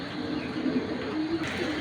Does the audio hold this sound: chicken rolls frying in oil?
no